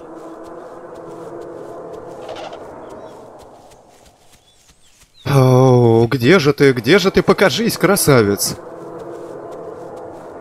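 A dinosaur cry in The Isle, a loud wavering, warbling call lasting about three seconds that bursts out after a quiet stretch, with someone talking before it.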